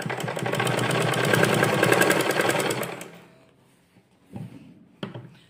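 A sewing machine runs steadily for about three seconds while stitching folded sleeve pieces, then stops, followed by a couple of brief clunks of fabric and machine handling.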